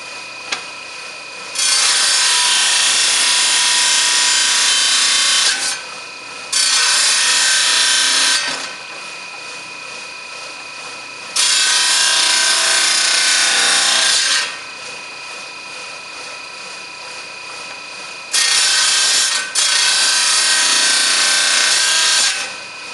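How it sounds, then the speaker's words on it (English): Saw cutting the edges of a wonderstone piece for cabbing, a loud harsh grinding rasp in four long bursts with a lower steady hum between them. "I'm going to use the saw to clean up a bit of the edges"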